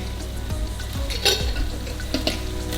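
Pastitsio (Greek lasagna) sauce being stirred in a pan over low heat, with a soft steady sizzle and a few scraping strokes of the spoon against the pan, close by and with no talk.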